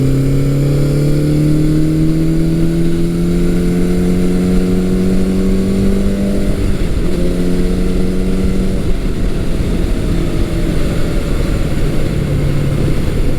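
A vintage Suzuki GS550 motorcycle accelerates steadily while being ridden, its inline-four engine note climbing in pitch through the gears, loud and continuous over steady wind noise.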